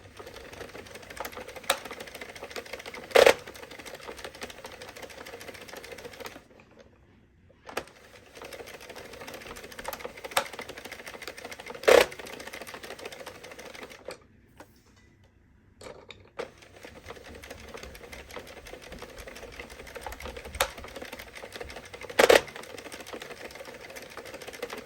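A knitting machine is cranked back and forth to knit rows of velvet yarn for a hair scrunchie, giving a steady mechanical whirring with sharp clacks at each row end and short pauses between passes, with no talk.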